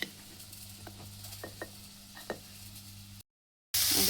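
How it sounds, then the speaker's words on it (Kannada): Masala frying in a pan, with a soft steady sizzle broken by a few light stirring taps, close and fairly quiet, then a short silent gap before a louder burst. "ನೋಡಿ ಫ್ರೆಂಡ್, ಇಲ್ಲಿ ಕಟ್ಟಿನ ಮಸಾಲೆ ಹುರಿತೇನೆ"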